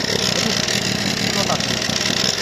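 An Oleo-Mac 155K cultivator engine runs throttled up while tilling between rows of tomatoes, peppers and eggplants, a steady loud drone held throughout with someone talking over it.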